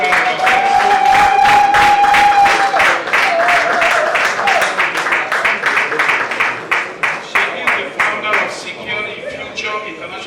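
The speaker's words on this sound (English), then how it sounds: "Please come and give her a good round of applause." Applause at an awards ceremony as an honoree is called up: a dense burst of many hands with some cheering that thins into scattered, rhythmic clapping, while a voice speaks over the start.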